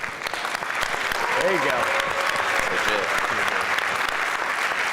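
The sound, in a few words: audience clapping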